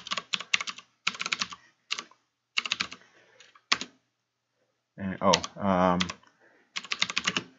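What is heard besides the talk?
typing commands on a computer keyboard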